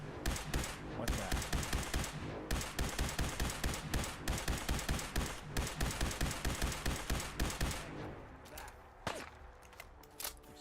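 Rapid video-game gunfire aimed at an enemy on a very hard blind playthrough, with dense, rhythmic bursts for about eight seconds before tapering to a few scattered shots.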